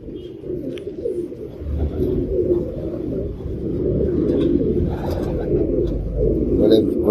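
A flock of Imam Din breed pigeons coos in a dense, low murmur of overlapping throaty calls, close and continuous, with faint chirps and rustling scattered over the top.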